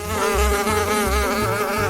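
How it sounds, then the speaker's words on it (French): A fly buzzes steadily and close in a video game, its wavering drone running unbroken over a low, pulsing background. "Une espèce de mouche."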